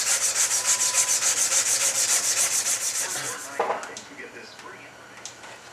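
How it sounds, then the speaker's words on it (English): Sandpaper of 120 grit rubbed back and forth along a steel H&R shotgun barrel in a shoe-shine motion, a loud, steady rhythmic rasp of quick strokes that stops partway, followed by quieter handling knocks. "Using my 120 grit and just working it in a shoe shine motion."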